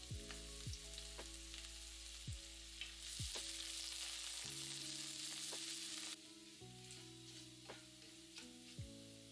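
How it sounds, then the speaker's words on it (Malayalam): Chopped shallots, dried red chillies and curry leaves frying and sizzling in hot oil for a Kerala green bean thoran, a steady loud crackle with occasional stirring clinks, while a low music bed plays underneath. "5 ചെറിയ ഉള്ളി അരിഞ്ഞതും 4 വറ്റൽമുളകും കറിവേപ്പിലയും ഇട്ട് മൂപ്പിക്കുക"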